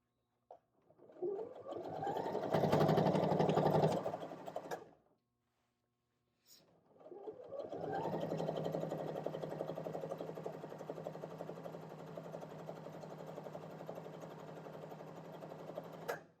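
A sewing machine running in two bursts: a short run of stitching, a brief pause, then a longer steady whirring run, close by.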